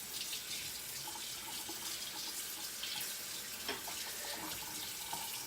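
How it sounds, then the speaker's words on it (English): Tap water runs steadily into a sink during handwashing, a faint, even splashing stream that lasts the whole time with no voices. "So I'm gonna wash my hands"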